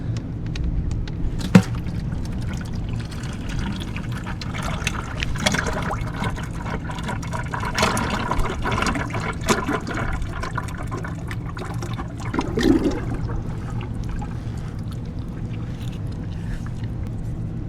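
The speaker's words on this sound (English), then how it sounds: "It's gonna make it tough to drain into these pails." Hydraulic oil drains from a CAT TH460B telehandler into pails during a hydraulic pump replacement, a steady liquid trickle and splatter running throughout with a few sharp clanks over a low constant hum.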